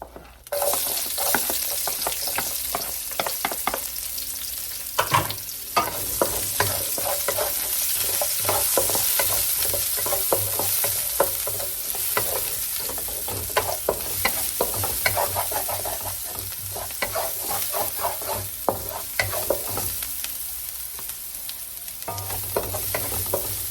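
Onions fry in a little oil, a dense continuous sizzle and crackle with frequent stirring scrapes throughout, close and steady with no voices.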